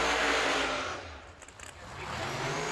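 Drag race car engine fitted with a ProCharger supercharger, roaring loud and steady at a drag strip during the Yellow Bullet Nationals, with a slight dip in the middle and no talk.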